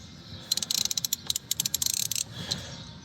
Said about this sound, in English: 10mm socket with a relatively long extension. So we'll attack the negative bit one first.